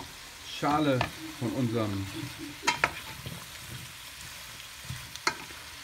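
Soup vegetables and pumpkin peel sweating in olive oil over high heat, a quiet sizzle beneath a voice early on, followed by a few sharp spoon scrapes and clicks against the pot.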